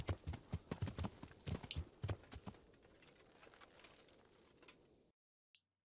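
Horse hooves clip-clop in Kingdom Come: Deliverance, a quick run of loud, close, evenly paced footfalls that slows into softer steps and then stops abruptly.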